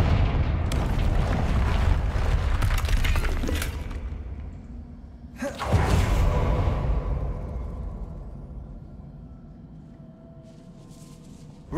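A Confringo blasting spell in Hogwarts Legacy bursts into a loud, deep explosion that rumbles on, then a second heavy blast about halfway through decays slowly into a fading roar.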